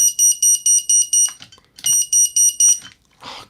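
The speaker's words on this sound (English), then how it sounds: "That is the sound of his laser gun." Toy laser gun from a BraveStarr Tex Hex figure firing a bright electronic beeping pattern, loud and close: two runs of rapid, evenly pulsed tones, a few clicks between them, and a brief burst of noise at the end.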